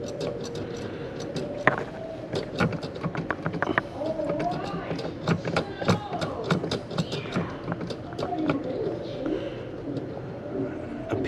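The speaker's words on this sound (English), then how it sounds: "Now, I'm just going to move the clutch and see if we can demonstrate this here." A C4 Corvette clutch pedal with a low-sitting fault is worked back and forth by hand, giving a close series of irregular mechanical clicks and creaks while someone talks.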